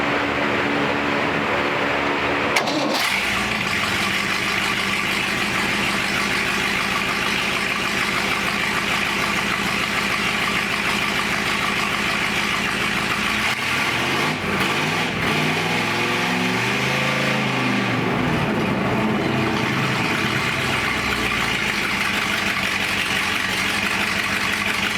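A rebuilt 1958 Chevrolet Apache truck engine cranks, catches and runs, then settles into a steady, loud idle with a rough, throbbing rhythm that shifts slightly midway, heard close up with no talking.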